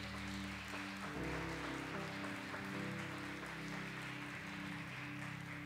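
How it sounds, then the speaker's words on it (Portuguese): A church congregation applauds together, a steady, even wash of clapping heard at a distance, with a low sustained tone running underneath throughout. "Vamos aplaudir ao Senhor por essa palavra?"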